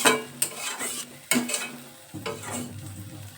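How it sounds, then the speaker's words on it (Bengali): A small splash of water hitting hot oil in a pan of Bengali fish curry, giving bursts of sizzle with a few sharp onsets and stirring scrapes, close and fairly loud, no talk. "এই অবস্থায় আমি এখানে একটু জল দিয়ে দেব, একদমই অল্প জল দেব"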